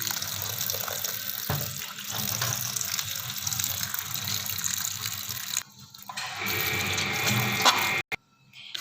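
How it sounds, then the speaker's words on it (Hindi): Cold tap water gushes steadily over snack dough being rinsed for a crunchy chatpata snack, with a brief pause and shift in flow near the end. "इसको हम ठंडे पानी के साथ जो है वो शावर देते हैं"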